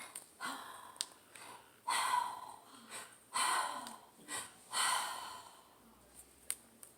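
A storyteller's voice imitates a monster's panting with a series of heavy, breathy huffs and snorting exhales, about six loud puffs separated by short pauses, close and alone.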